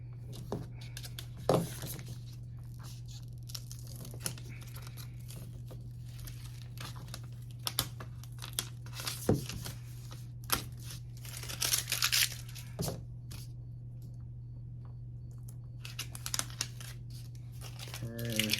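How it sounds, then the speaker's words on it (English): Bottom layer of cut vinyl being peeled from its backing, giving scattered crinkling and tearing rustles with a few sharp crackles over a steady low electrical hum, close and fairly quiet, with no talking. "now it's time to peel our vinyl. This is the bottom layer"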